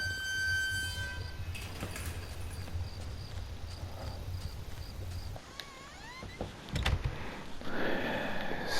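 Train at a station in the video game Home, with rumbling rail noise, a sustained horn-like tone at the start and clattering, rhythmic knocks, ending in a brighter hiss.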